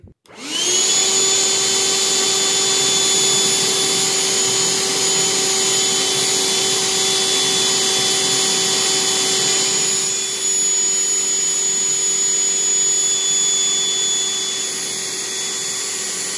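A Black + Decker Dustbuster cordless vacuum sucks up liquid, a loud, steady high-pitched whine that starts abruptly and holds for the whole stretch, with a slight drop in tone partway through and no talk.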